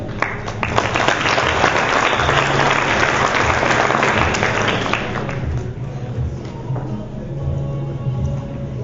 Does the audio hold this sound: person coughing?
no